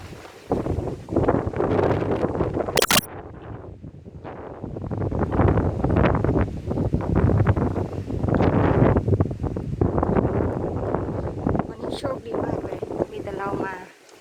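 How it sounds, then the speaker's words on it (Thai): Strong wind blows at the upper grounds of Wat Phu Lum Khum temple, a loud roaring buffet that surges and eases across the microphone for most of the stretch, with brief quieter gaps. "วันนี้ลมแรง"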